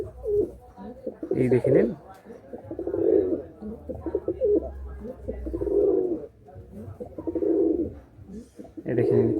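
A pair of Andhra and Madrasi pigeons coo in soft, low, throaty bursts repeating every second or two, close by, with someone talking briefly over them.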